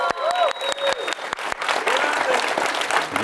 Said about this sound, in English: So if all of you can cheer for them for a second